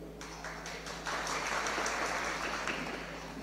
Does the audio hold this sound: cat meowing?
no